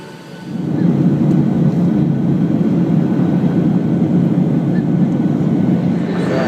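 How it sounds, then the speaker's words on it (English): A passenger airliner's engines drone in flight as a steady, broad roar heard from inside the cabin, constant throughout with no talk. "we're boarding a plane for South America."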